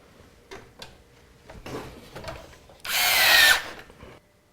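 A power drill driving screws on a drive adapter inside a Corsair 550D computer case, a few faint clicks and handling noises, then one steady whirring burst of under a second, close and moderately loud.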